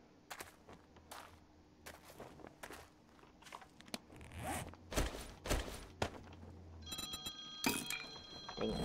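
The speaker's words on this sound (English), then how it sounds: "dang, my phone's ringing" A mobile phone rings near the end with a steady electronic tone, cutting in over clattering, rustling handling noises and scattered footsteps.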